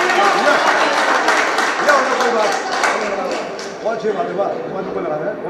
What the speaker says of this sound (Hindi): एक और दफ़ा जोरदार तालियां हो जाए